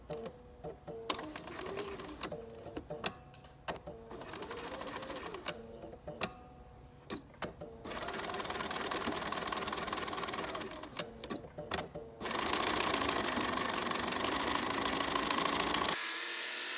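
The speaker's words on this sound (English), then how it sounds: "we're going to back stitch here about 2 times, and then you're going to back stitch here 2 times, but you sew all the way across" A sewing machine stitches a fabric face mask in short bursts of rapid needle clatter between pauses, then settles into longer continuous runs, close and clear.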